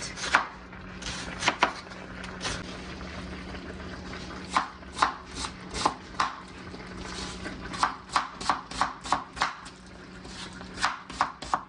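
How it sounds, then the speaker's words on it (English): A knife finely chops onions on a cutting board for a desi chicken karahi, with quick rhythmic strikes coming in bursts separated by short pauses, close and clear. "now we're going to cut a very fine chop our onions"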